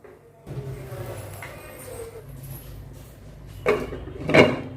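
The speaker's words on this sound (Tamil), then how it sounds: "இப்போ இதை வந்து மூடி வச்சிடலாம்." A single clattering knock of a lid being set onto a metal cooking pot of boiling rice flour snack, following quiet kitchen handling noises; close and fairly loud.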